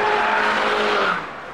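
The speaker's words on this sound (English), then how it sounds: "you get a sweeter to rev, nicer responding engine." Turbocharged engine of a new MINI revs hard under throttle, a loud close engine roar with a rising tone that cuts off sharply near the end, brief with no talking.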